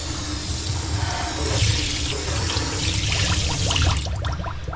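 Steady rushing and gurgling of water swirling down a clogged sink drain treated with baking soda and vinegar, loud and close, continuing without a break.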